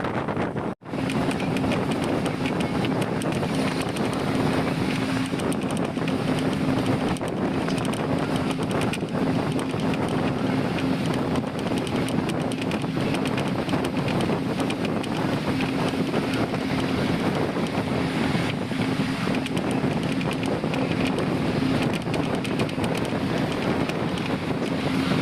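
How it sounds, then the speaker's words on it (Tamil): TNSTC bus travelling at a steady speed on an empty road between Tirunelveli and Madurai, a constant loud rush of wind and road noise with a steady low engine hum and one brief thump near the start. "ஸோ வண்டி கிளம்பும் போது என்ன ஸ்பீடில் இருந்துச்சோ அதே ஸ்பீடில் தான் இப்போ வரைக்கும் ஓடிட்டுருக்கு"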